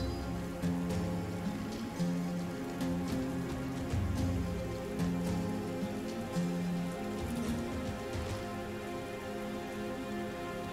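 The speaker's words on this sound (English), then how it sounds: "Rain sounds are pretty nice quality in this game." Steady rainfall in the video game Battle Brothers, a soft continuous patter of drops on surfaces with a low hum of game ambience running underneath throughout.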